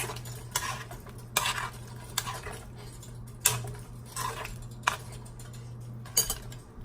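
A spoon or spatula stirs tofu avocado red curry with zucchini, bell pepper and red onion in a pan, making quiet, intermittent scraping and clinking strokes spaced about a second apart over a low steady hum.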